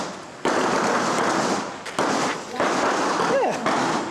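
Glock pistol fire at a shooting range in Thailand: several sharp, loud reports in quick succession, each a sudden blast followed by a roomy decaying rumble, close by with no clear talking.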